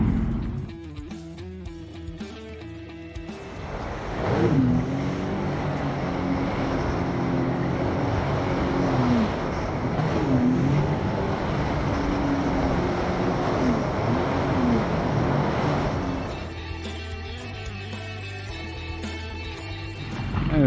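Jet ski engine running over swells on Lake Michigan between Manistee and Muskegon, a continuous loud drone with rising and falling pitch as the craft rides the waves, plus rushing water and wind, no talking.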